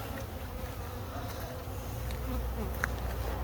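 A honey bee swarm in a small yard orchard, a steady dense buzzing drone that stays close and even throughout, with nobody speaking.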